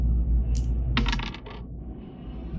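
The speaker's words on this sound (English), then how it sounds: "Between rounds 1 and 2, you roll the dice." Dice are rolled between rounds of a tabletop card-and-dice game, giving a short burst of hard clattering clicks as they tumble and settle on the table, with no talk over them.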